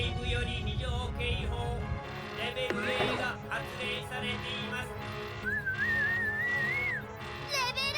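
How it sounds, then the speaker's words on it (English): A whistle sounds in the remastered shoot-'em-up Radiant Silvergun, a thin rising-and-falling tone partway through, layered over dense game music and effects. "What is that whistle?"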